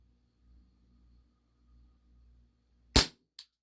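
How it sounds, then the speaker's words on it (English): A WE Tech Bulldog 6mm gas blowback airsoft pistol fires in a quiet room: one sharp, loud snap of the shot and slide, then a smaller second crack a moment later, with near silence before. "Pretty nice snappy blowback."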